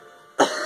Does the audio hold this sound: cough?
yes